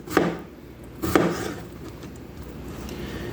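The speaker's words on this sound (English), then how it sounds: "So keep in mind, you can cut it however you like. You could cut it in some slices." A knife cuts through strawberries on a board, giving two distinct soft chops about a second apart against quiet room tone.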